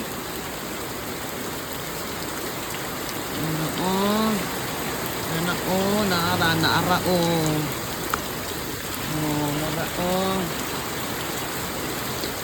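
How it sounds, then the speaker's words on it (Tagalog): Heavy rain pours steadily at night in a Philippine city during a typhoon, a constant loud hiss throughout while a person speaks intermittently over it. "Ang lakas ng ulan."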